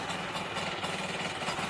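A Yamaha DT50MX two-stroke motorcycle engine idles close by at a steady, buzzy mid-pitched tick during a rebuild, with no voices over it.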